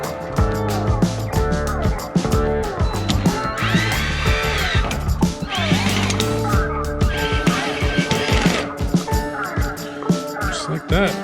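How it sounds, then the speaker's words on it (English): Cordless drill driving screws at low torque while a Char-Broil Performance five-burner gas grill is assembled, with repeated short whirring bursts and clicks set against background speech and clatter. "Alright, got the drill now."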